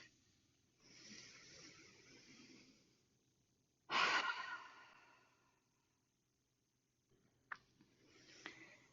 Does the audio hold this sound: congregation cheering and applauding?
no